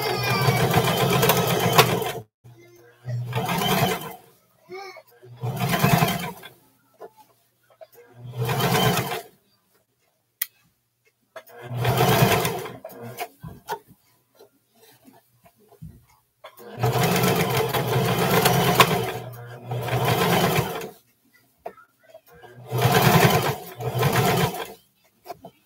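A sewing machine stitches a seam on short pants from McCall's pattern M4364, running in a series of loud, close bursts of varying length separated by silent pauses.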